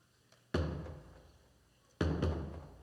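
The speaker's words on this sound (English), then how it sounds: "will demonstrate a hit to the middle of the drum" Two deep, booming strikes to the middle of a taiko drum, each a sharp heavy hit followed by a resonant decay, spaced about a second and a half apart.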